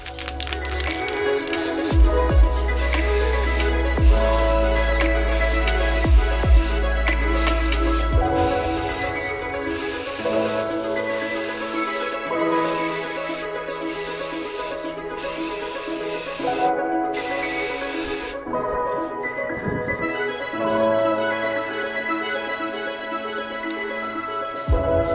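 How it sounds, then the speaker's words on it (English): Primer sprayed from a shaken aerosol can onto Mini Cooper S R53 interior parts, a long steady hiss in sustained bursts with brief pauses between passes, close and loud, no voices. "so now I can spray a couple thin coats"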